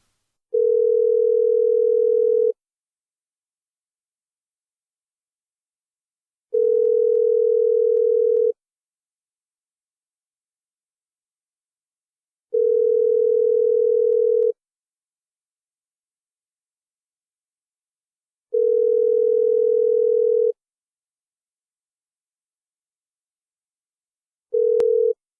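Steady telephone tone on a phone line while a guest is being called, sounding in repeated bursts of about two seconds separated by longer silences, five times, clean and close.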